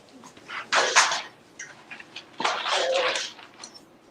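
Boerboel puppies let out two bursts of high whining and yelping, each lasting under a second, with softer whimpers in between, close and fairly quiet.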